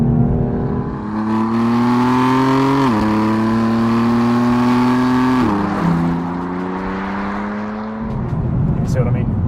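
A BMW M4 with a sports exhaust revs hard, its loud, steady engine drone climbing in pitch and dipping twice as the revs shift, then easing off near the end.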